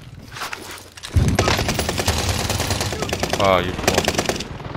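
Rapid automatic gunfire from the video game Warzone crackles in dense bursts, loud and sustained for several seconds, with a player's voice talking briefly over it.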